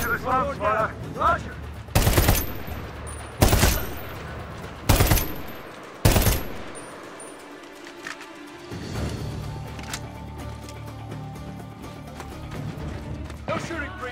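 Gunfire in the video game Medal of Honor Warfighter, four loud separate shots spaced about a second and a half apart, followed by a rumbling aftermath with a voice heard before the shots.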